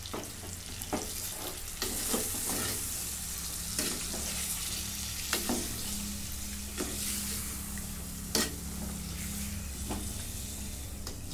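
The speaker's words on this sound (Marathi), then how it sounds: "आता याच्यामध्ये दही टाकून घेते. पुन्हा एकदा परतून घेते." Chicken korma with yogurt sizzles steadily in a pan as it is sautéed, a constant soft frying hiss broken by regular clicks and scrapes of the stirring spoon.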